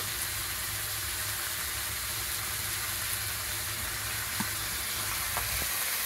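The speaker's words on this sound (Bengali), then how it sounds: "মশলা থেকে তেল ছেড়ে দিয়েছে, আমার মশলাটা কষানো হয়ে গেছে।" Spices with turmeric and salt fry in hot oil, a steady close sizzle running throughout with a few faint clinks of stirring.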